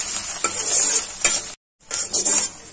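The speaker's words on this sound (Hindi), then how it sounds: "यहाँ अदरक को मैंने ग्रेट कर लिया है और इसे हम थोड़ा सा भून लेते हैं" Grated ginger and chopped green chillies fry in a pan with a loud, close sizzle. A spoon scrapes and stirs through it in bursts, and the sound breaks off briefly for a moment of silence before the frying resumes.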